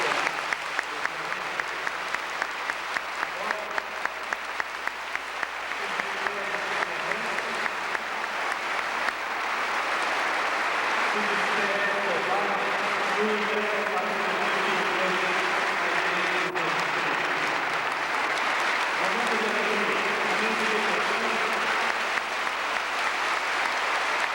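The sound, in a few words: congregation applause acclaiming priestly ordination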